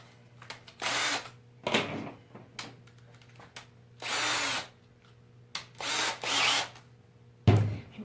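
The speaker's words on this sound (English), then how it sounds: "I am gonna use these black drywall screws, and they should go into the wood really nice and easy." A power drill drives black drywall screws into wood in several separate bursts of whining motor and bit grind, each lasting about half a second to a second, with quiet pauses between them.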